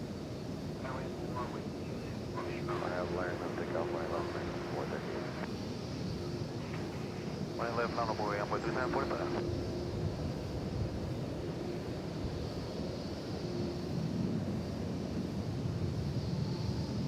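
Airplane departing DFW Airport at night, a steady broad jet roar at a distance that persists throughout while someone talks over it.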